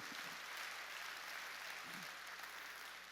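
A church congregation claps together during a New Year's Eve worship service, a dense, steady wash of applause lasting the whole stretch with a faint low murmur underneath.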